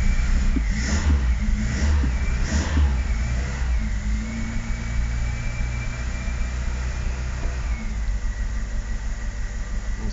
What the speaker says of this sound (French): Donc ça tient ralenti au starter.